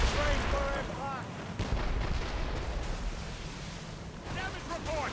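Naval cannon fire during a ship battle in Assassin's Creed Rogue, heavy booming blasts over roaring wind and sea, with shouted orders from the crew running through the clip.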